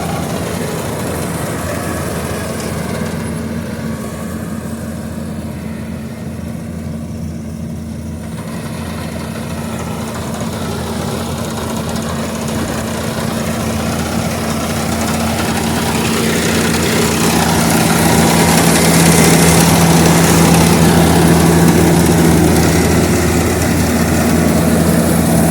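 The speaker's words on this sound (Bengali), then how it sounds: "দেখেন একদিনে বিশাল জমির ধান কাটতেছে, শত শত একর ধান কাটতেছে এই মেশিন দিয়ে" A paddy rice harvester cutting rice in a large field gives a steady, loud, droning engine rumble that swells slightly toward the end, with no voices.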